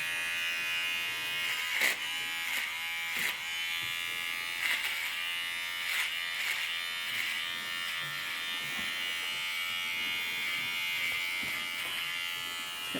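An electric razor buzzes steadily and close by while trimming a puppy's fur during a Boston trim, with brief pitch shifts as the clippers move across the coat.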